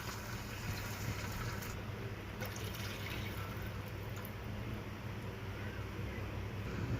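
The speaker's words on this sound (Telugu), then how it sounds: "ఏ గ్లాస్తో అయితే సేమ్యాలు తీసుకున్నామో అదే గ్లాస్తో రెండు గ్లాసుల వాటర్ని వేసుకోవాలి" Two glasses of water pour steadily from a glass into a pan for vermicelli upma, a continuous close splashing rush lasting several seconds with no break.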